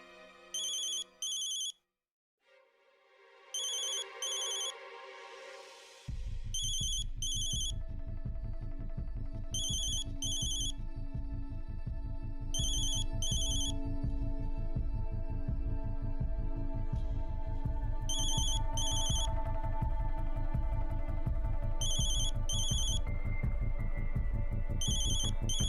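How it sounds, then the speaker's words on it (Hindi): A phone ringtone repeats in regular electronic bursts, first alone and then over a loud, throbbing musical drone that continues under the ringing. "प्रीत, या तो तू फोन उठा ले, नहीं तो साइलेंट कर"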